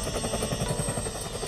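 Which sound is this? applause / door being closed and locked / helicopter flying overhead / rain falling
helicopter flying overhead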